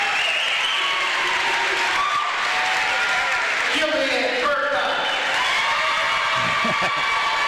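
A crowd at a high school district championship basketball final applauds and cheers steadily, a dense roar with speech over it throughout.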